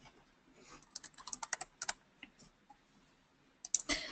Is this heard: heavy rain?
no